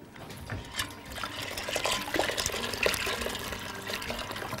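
Boiling water pours and splashes into a pot of pasta for a few seconds, a close, steady liquid rush with small bubbling and clinks.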